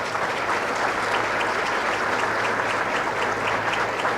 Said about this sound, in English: let's give St. Mary's a good round of applause for this.